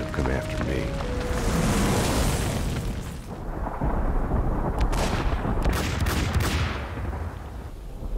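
Gunfire and explosions in the video game Max Payne, loud and continuous with booming blasts and sharp cracks, a dense action-scene roar throughout.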